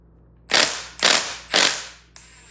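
Ratchet with a T45 Torx bit loosening injector bracket bolts on a 6.4L Powerstroke diesel engine: three sharp, close ratcheting bursts in quick rhythm, then a fourth, quieter one.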